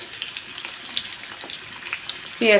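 Chopped onion hitting hot oil in a pan, a steady low frying hiss with faint pops, swelling into a louder sizzle near the end as the onion goes in.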